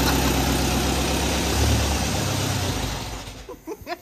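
A Volkswagen engine under restoration idles with a small exhaust leak, a close, steady low rumble that fades out as it is shut off, followed by a few soft knocks.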